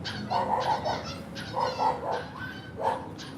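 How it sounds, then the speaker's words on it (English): A small puppy behind a wall whines and yips repeatedly in short high-pitched bursts, somewhat muffled and moderately distant over faint outdoor background noise. "there's a little puppy over there whining like crazy at that house"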